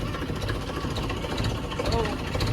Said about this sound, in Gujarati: પૂપુ ટ્રેક્ટરમાં આવ્યો.